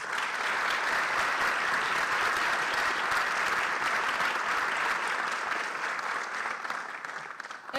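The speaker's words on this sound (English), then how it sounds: "let's give them another round of applause" Applause from the audience at a university Charter Day celebration, a steady, dense clapping from a large crowd that carries evenly for about eight seconds and thins slightly near the end.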